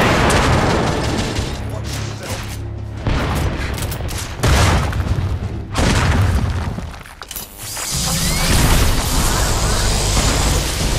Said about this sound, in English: Watch it! Grenade!